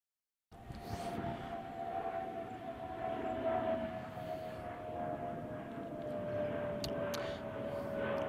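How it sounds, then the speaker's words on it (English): An airplane passes overhead outdoors, a faint steady drone with a constant tone held for several seconds, distant and soft with no talking. "there's a plane right above"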